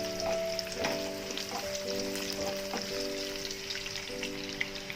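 Mushrooms and shallots frying in a pan after eggs, with a steady dense sizzle and scattered crackles and pops running throughout at moderate volume.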